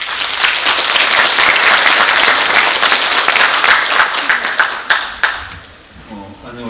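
A hall full of people at a public health lecture at a Korean medical centre gives dense, loud applause for about five seconds, then it thins into a few scattered claps and dies away.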